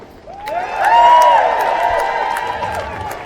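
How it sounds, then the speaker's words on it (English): Crowd at a protest rally against the Tories, the DUP and over Grenfell cheering and applauding for a school student from Bradford, swelling quickly into a loud, sustained roar with scattered clapping and whoops. "give her another big cheer"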